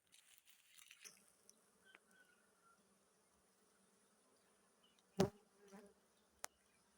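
Bees from hives newly moved by motorbike to a fixed apiary fly around after their orientation flight, making a faint, steady buzzing with a few louder close passes near the microphone.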